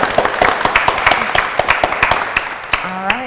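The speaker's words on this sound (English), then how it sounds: "Round of applause for them." A small group claps for the guests at the close of a home-loan talk show segment, with brisk, evenly spaced claps over a few seconds, fairly close, and a voice joining near the end.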